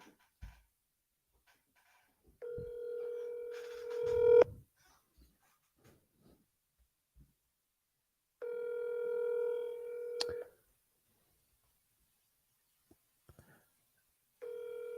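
An outgoing call on a telephone line during a cold-calling session, giving a ringback tone in long steady buzzing bursts separated by silences, with faint clicks in between and no voices.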